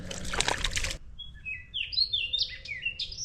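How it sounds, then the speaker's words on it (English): A bird sings beside a rock bass fishing spot, a run of bright clear chirps and whistled phrases after a brief burst of splashing or trickling water, fairly close and alone. "Yeah, I'm really enjoying the sound of that bird."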